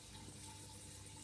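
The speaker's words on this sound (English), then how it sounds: "Big filter that shoots down like that, so it's nice and bubbles for her." An aquarium filter shooting water down into a turtle tank, a constant faint rushing, bubbling flow with no other sounds.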